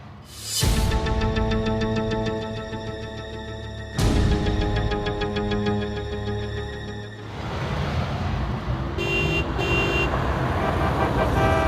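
A car makes a U-turn in road traffic with a steady engine and traffic rumble throughout, punctuated by loud horn toots at the start and again partway through.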